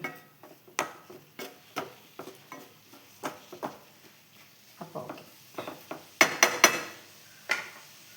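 Tomato chutney stirred in a pot with a spoon, a string of light clinking knocks and scrapes against the metal, ending with a few louder clatters as a lid is set on top; no talking.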